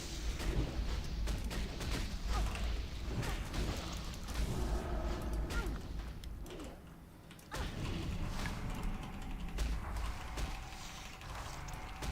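World of Warcraft Classic combat with Arcane Explosion area spells cast by multiboxed characters, producing dense overlapping magical bursts, clanks and mechanical effects that continue loudly throughout.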